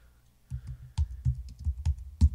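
Keys are typed on a computer keyboard, with about ten close, soft thumping keystrokes in an uneven rhythm after a brief quiet start, with no voices.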